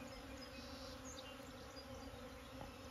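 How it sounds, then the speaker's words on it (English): Honeybees buzz in a bee yard on a sunny day, a dense, continuous droning hum from many insects close by, steady and soft throughout with no talking. "beautiful day in the bee yard"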